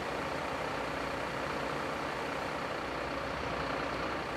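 A rescue ambulance engine in a Notruf 112 firefighting simulation game, a continuous low idling rumble with a steady broadband hum and no distinct changes.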